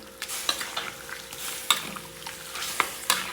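Squid adobo seasoned with shrimp cube stirred in a pan, a spoon scraping and clacking in irregular strokes over a steady soft sizzle, close and moderately loud with no talking.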